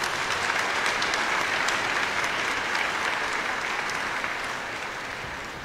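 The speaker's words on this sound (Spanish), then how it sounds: "Un aplauso para él, por favor." Applause in a church for a priest at a patronal feast Mass, a dense steady crowd clapping from the start that slowly fades toward the end, with no voices over it.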